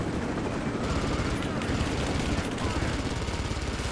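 A helicopter in Rise of the Tomb Raider, heard as a steady, loud rotor drone mixed with a dense wash of combat noise that continues without a break.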